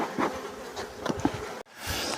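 Aggressive honey bees buzz around an opened hive close by in a low, wavering drone with a few louder passes, broken by a brief dropout.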